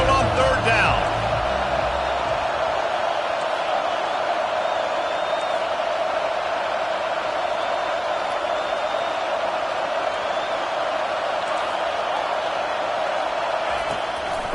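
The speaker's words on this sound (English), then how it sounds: "Here comes this home crowd as the defense tries to get off the field on third down." Home crowd noise from a college football video game, a steady, dense roar that holds loud and unbroken for the whole stretch, with no voices standing out above it.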